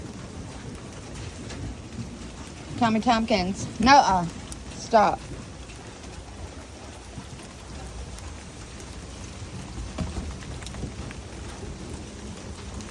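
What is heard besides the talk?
rain falling outside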